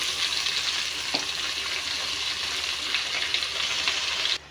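Curry leaves sizzling and crackling in hot oil in a pan, a steady loud frying hiss close by with scattered pops, cutting off abruptly at the end.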